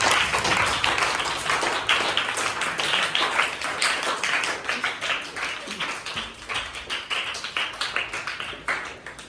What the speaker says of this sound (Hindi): तो बच्चों एक बार सभी लोगों के लिए तालियां बजाएं